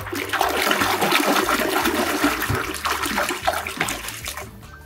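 Water pours and splashes steadily as a muddy toy alligator is washed, a loud continuous rush with a tap-like flow that eases slightly toward the end, with no talking.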